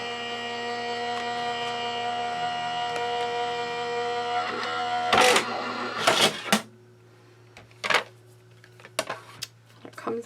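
An embossing folder is cranked through a die-cutting machine for card-making. A steady electrical hum gives way to a few sharp clunks and clicks, spaced apart and fairly close.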